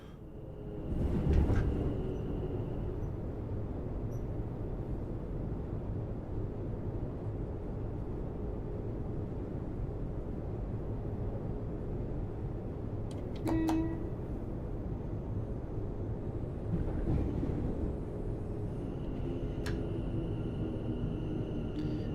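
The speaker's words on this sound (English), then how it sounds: "I think you hear the trailing bogey go over the points in this train, not the leading bogey." A train in Train Sim World rolls steadily with a low rumbling drone, its bogey clattering over points with a few brief sharp knocks and clicks, no talking.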